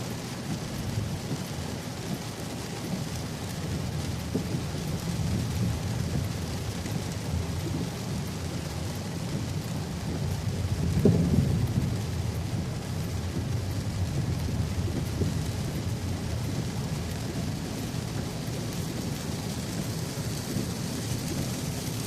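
Steady, heavy rain pours down continuously, with a low rumble of thunder swelling briefly near the middle before the downpour carries on alone.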